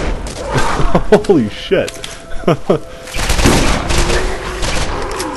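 Sniper rifle gunfire in Borderlands, a few sharp shots spaced across the moment amid game effects, with a man exclaiming over it.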